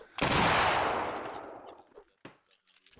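A single loud musket volley from the 33rd Regiment of Foot in an Anglo-Zulu war battle at Rorke's Drift: one massed crack of rifles rolling into a long fading rumble, followed by a few faint distant shots.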